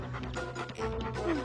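A cartoon dog panting in quick, breathy bursts, close and fairly loud, with a brief whimpering yip near the end.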